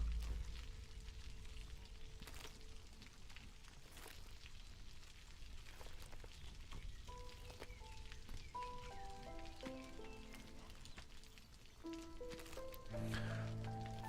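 Steady rain falls in the video game Against the Storm, a constant hiss of drops on surfaces throughout, later joined by a soft melodic game tune.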